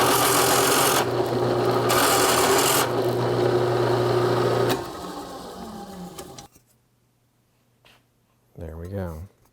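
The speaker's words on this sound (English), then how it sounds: "I'm just going to drill a hole for the wire to go through" A drill boring a hole through a metal security plate on a Royal GIII vending machine, using a 15/32 bit, runs loud and steady for about five seconds, then winds down, followed by a brief voice near the end.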